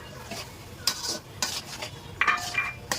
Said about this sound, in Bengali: এখন কিন্তু আমার চুলাটা একদম বাড়ানো। এখন শুধু নাড়াবো।